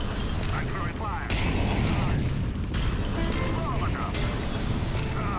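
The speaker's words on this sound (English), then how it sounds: "Throwing fire. Molotov. I'm throwing fire." A Molotov cocktail is thrown and bursts into flames during a rainy night mission in a video game set in Italy, with whooshing booms and crackling fire under voices talking over the noise.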